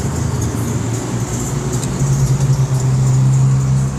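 Dodge Chargers rolling past at a car meet, a loud, close engine rumble that swells and deepens toward the end as the cars pass by.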